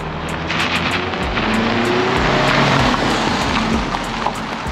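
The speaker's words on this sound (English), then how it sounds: "I think we should have a miniature drag race here." Two cars, a Toyota Corolla and a new Honda Civic, accelerate side by side in a speed-limited drag race, giving a steady, continuous engine drone with rising tones, heard alone without talk.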